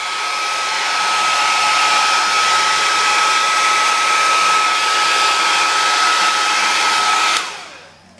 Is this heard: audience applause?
no